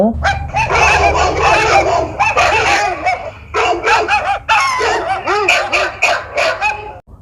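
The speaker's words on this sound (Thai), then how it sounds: "หมาของทิจุกสองสามตัว วิ่งออกมาเห่ากำนันเสา" Two or three dogs running out to bark at a man outside a rural house, a loud close burst of overlapping barks and yips in quick uneven volleys, briefly pausing then resuming before stopping.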